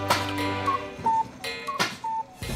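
A finished German cuckoo clock ticks at close range, a few clear clicks against a steady low hum.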